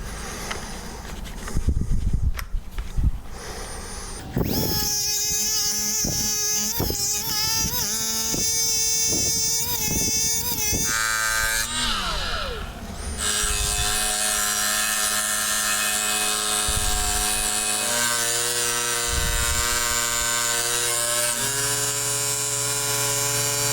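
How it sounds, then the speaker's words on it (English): A grinder works the edge of a custom trim piece for a glass cooktop, with a few clattering handling knocks at first, then a sustained, loud, high-pitched whine that shifts in tone as the tool bites and runs on. "I'm going to try to grind this edge off right here to get these equal."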